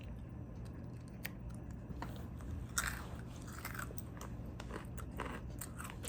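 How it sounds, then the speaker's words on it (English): Dry cereal eaten from a cup, with faint, irregular crunches and bites close to the microphone over a low background hum. "I just have like dry cereal in this cup"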